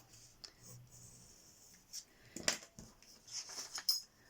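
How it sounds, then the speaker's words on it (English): Pencil sketching half an egg shape along the folded edge of paper for a wax resist Easter card: quiet, close scratchy strokes in short bursts with a few light taps. "you're going to roughly sketch out half of an egg shape"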